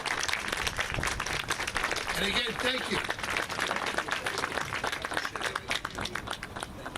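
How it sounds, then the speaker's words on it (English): Audience applause at a community center ribbon cutting and blessing in Yonkers: sustained crowd clapping fills the space while a speaker talks over it. "Give yourself a round of applause."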